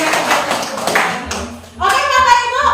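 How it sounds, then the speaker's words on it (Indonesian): A small group of teachers claps for a fellow teacher in a school workshop session, a short burst of clapping that fades into speech as a voice starts talking. "Oke, tepuk tangan buat guru."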